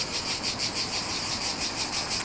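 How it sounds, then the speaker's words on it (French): Cicadas shrill in a dense, high-pitched buzz that pulses in a steady rapid rhythm, fairly loud and continuous throughout, with no voices. "Elles sont désagréables, ces cigales."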